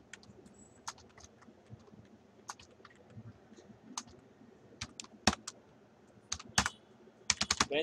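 Java code typed on a computer keyboard: irregular, close key clicks, sparse and soft at first, then quicker and louder clusters of taps near the end.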